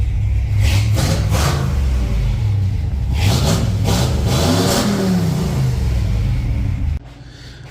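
A car engine revs loud and close in rising and falling surges while being put in gear. It drops abruptly to a lower, steadier running sound near the end.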